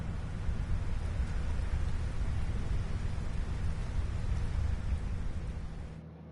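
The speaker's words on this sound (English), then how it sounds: "It's raining now." Steady heavy rain with a deep low rumble of thunder beneath in a video game, continuous and fairly loud before cutting off at the end.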